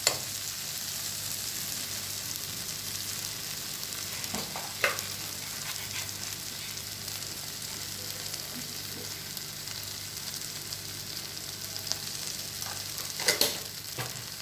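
Masala dosa potato filling being mixed with salt in a pan, a steady close sizzle with occasional spoon scrapes and clinks against the pan, constant and fairly quiet, with no voices.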